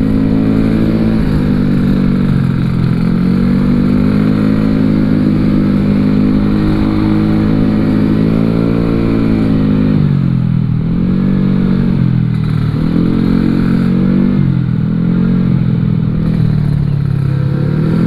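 A classic Vespa scooter with a bored-up 165cc engine ridden around Jakarta, its loud, buzzing two-stroke drone holding steady, then rising and falling as the rider throttles on and off.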